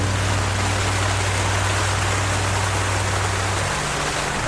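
Heavy rain pours steadily on a tent at a desert motorcycle camp, a dense unbroken hiss close around with a low drumming hum beneath, continuous and loud throughout.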